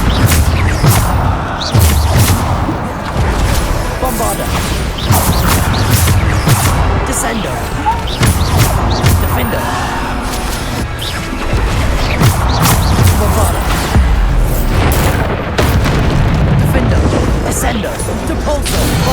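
Bombarda blasting spells explode in a busy Hogwarts Legacy fight: repeated crashes, booms and whooshes pile up in a loud, continuous barrage, with character voices shouting in between.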